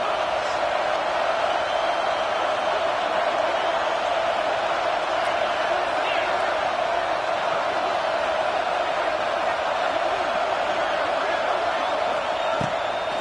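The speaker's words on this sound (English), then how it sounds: "Big third down as the crowd gets behind this defense" A football stadium crowd at an Arizona State versus Clemson game roars in a dense, sustained wall of cheering on a big third down, loud and unbroken for the whole stretch.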